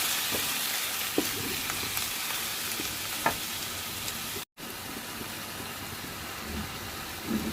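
Tomatoes and pre-boiled potatoes sizzle steadily in a pan for Karnataka-style aloo saagu, a continuous close frying hiss with a few faint clicks and a brief dropout midway.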